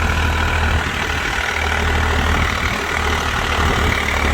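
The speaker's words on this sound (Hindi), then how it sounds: "अब ले रहा है भाई वो ट्रैक्टर लोड," A tractor in a pulling contest labors under heavy load, its engine producing a loud, steady, low roar with a constant drone that holds for several seconds.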